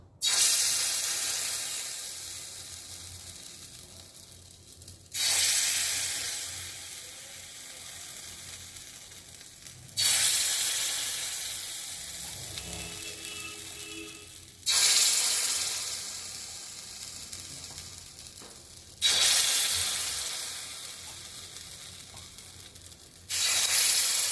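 Spoonfuls of pitha batter hit a hot nonstick pan one after another, each setting off a loud hissing sizzle that slowly fades, repeated five times at roughly five-second intervals.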